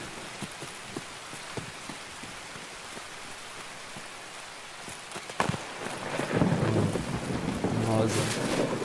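Heavy rain with rumbling thunder in the video game Escape From Tarkov, a steady patter that swells into a louder, deeper rumble in the later seconds, with scattered sharp clicks and no talk.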